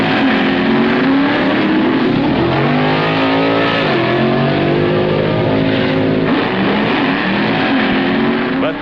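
Don Prudhomme's Hawaiian drag car at a 1965 NHRA drag race accelerating in a loud, continuous roar, its engine pitch sweeping upward through several gear-like rises for the full stretch.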